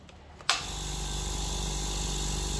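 Small electric air compressor switched on in a workshop: a sharp click, then a steady loud motor hum with a broadband whine that runs on unchanged to the end.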